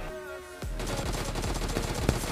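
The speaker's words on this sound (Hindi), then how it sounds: "यहाँ पे फायरिंग हो रही थी" Rapid gunfire bursts from an M16 rifle in a mobile battle-royale shooter game, starting abruptly after a quiet moment and continuing as loud, dense firing with a sharp peak near the end.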